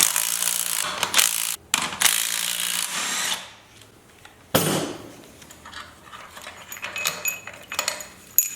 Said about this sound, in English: let's grab our handy rattle stick here, and it's a 17mm. Just blat him off quickly